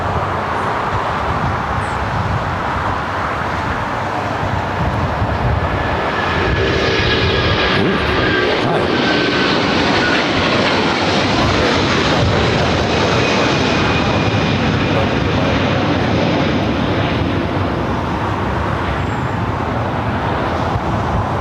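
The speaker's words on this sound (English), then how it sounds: "Air Tahiti Nui heading to Pop Bay 8, rolling down the 24 left" Air Tahiti Nui airliner rolling down runway 24 left at LAX, a loud continuous engine roar with broadband rushing noise that holds steady throughout.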